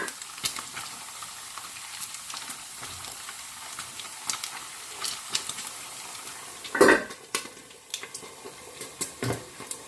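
Pork belly for sisig frying in a pan, a soft continuous sizzle broken by irregular stirring clicks and one louder clatter of utensil against pan.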